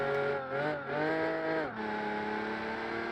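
A car with a 5.4 V8 engine in the driving game BeamNG revs hard through rising and falling engine tones, dipping briefly for gear changes before settling into a sustained high drone, loud and close.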